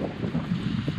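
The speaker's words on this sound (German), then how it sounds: "Wir kommen hier an und es ist windig." Gusty summer wind in Norway buffets the microphone in a steady low rumble for a brief moment.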